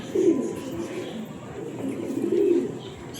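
Soft, low pigeon coos repeat in a steady murmur, fairly close, with a couple of fuller swells of cooing.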